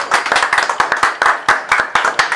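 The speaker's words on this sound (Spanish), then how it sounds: "Un aplauso bien fuerte para ellas" A small audience claps for birthday girls at a mariachi celebration in Bogotá. The clapping is loud and close, with individual sharp claps in uneven bursts.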